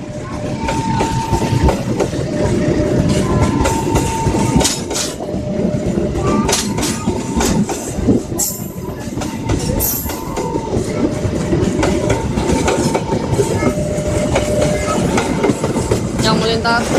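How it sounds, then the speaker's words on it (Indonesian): A Bangun Karta passenger train passes in Mojokerto, Indonesia, its wheels clattering steadily over rail joints in a continuous loud rumble, with a horn sounding several times. "Yang melintas kereta api Bangun Karta."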